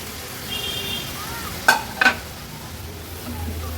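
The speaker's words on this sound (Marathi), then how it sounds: "आता आपण ह्याच्यामध्ये साफ केलेल्या, स्वच्छ धुवून घेतलेल्या खरब्या ॲड करूया" Cleaned crabs are sautéed in oil with turmeric masala. A low, even sizzle runs throughout, broken by two sharp metallic clatters close together near the middle. No one talks.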